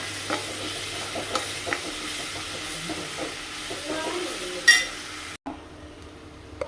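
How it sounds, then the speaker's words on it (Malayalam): Crushed ginger, garlic, green chillies and curry leaves are stirred in a hot pan, giving a close sizzle with spoon scrapes and a louder clatter before a brief cut to quieter frying. "ഇനി നമുക്ക് ചതച്ച് വെച്ചിരിക്കുന്ന ഇഞ്ചി, വെളുത്തുള്ളി, 3 ചെറിയ പച്ചമുളക്, കറിവേപ്പില ഇട്ട് കൊടുക്കാം. നന്നായി മിക്സ് ചെയ്ത് കൊടുക്കാം."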